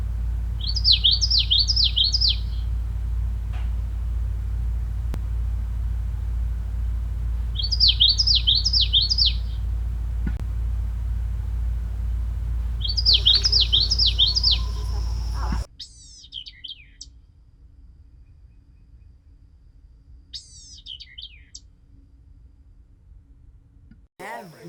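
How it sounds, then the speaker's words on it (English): A vireo sings repeated short, rapid warbled phrases in three clear bursts over a low hum, then a few fainter, scattered chirps follow in quieter surroundings at a bird-banding site. "Vireo."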